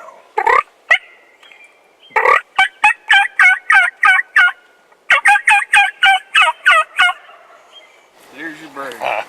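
A wild turkey gobbles loudly and close during a spring turkey hunt outside Deadwood, South Dakota, with several rapid rattling bursts of gobbles in a row.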